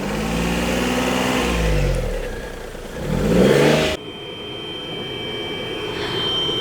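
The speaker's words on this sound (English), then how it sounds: "that is the Webasto preheater that's making all that noise there." A Webasto diesel preheater on a Rover 75 diesel runs loudly alongside the engine held at raised revs, a steady mechanical roar that surges around the middle and then drops to a lighter, even hum.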